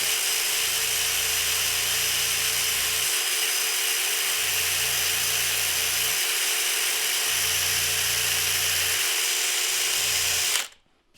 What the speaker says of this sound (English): by using the drill bit carefully, I can maintain these mortises very quickly.